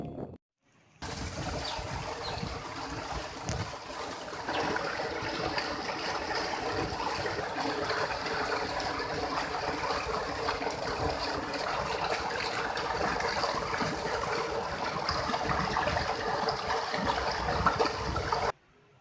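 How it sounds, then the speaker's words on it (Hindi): Water pours steadily into a rice paddy nursery field, a continuous close rushing and splashing wash that holds constant for the whole stretch after a brief quiet start. "खेत में पानी डाला जा रहा है।"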